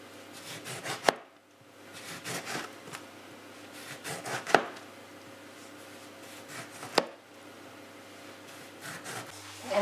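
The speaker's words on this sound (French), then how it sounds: "On va découper juste les oranges comme ça en lamelles" A knife cuts oranges into thin slices on a board, producing soft repeated slicing strokes and a few sharp taps of the blade against the board, close and fairly quiet.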